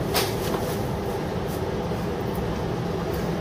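Steady low rumble inside a moving passenger train bound for Wollongong, continuous rolling noise with faint rattles, no talking.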